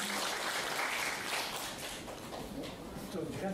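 Audience clapping at a community ocarina recital in a lifelong learning hall, a dense steady patter of many hands sustained throughout, fairly close.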